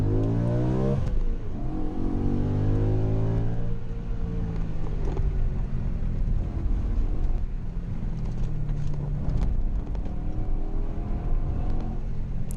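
A manual Audi RS4 B7 with a 4.2 V8 under way, its engine note rising through revs, dropping at gear changes and climbing again, heard steadily from inside the car at a moderate level.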